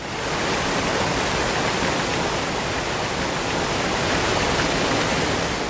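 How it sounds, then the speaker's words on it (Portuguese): Powerful waterfall in the protected Atlantic Forest of Serra da Bocaina, Brazil, roaring as a dense, steady broadband rush of falling water that fills the whole stretch at constant loudness, with no voices. "os calmos rios se transformam em quedas poderosas"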